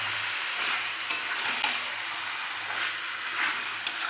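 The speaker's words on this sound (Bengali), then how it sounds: "এইবার কষার পালা শুরু।" Chicken with spices is stir-fried (kosha) in a pan, a constant close sizzle with occasional sharp scrapes and clicks of a spatula against the metal.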